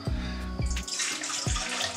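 Warm water runs from a kitchen tap in a steady, full rush, close and fairly loud, with a few soft knocks and splashes as a container is filled for making naan flatbread dough.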